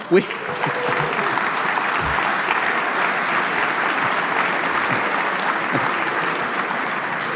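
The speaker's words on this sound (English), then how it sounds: "we get an applause for the LCBO hours" Legislative chamber audience breaking into steady, full applause that holds evenly throughout, a dense field of clapping from many hands with a brief sharp sound at the very start.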